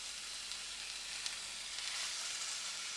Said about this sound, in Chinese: 烧热一个 pan， 将啲肉咁样摆落去，煎佢四边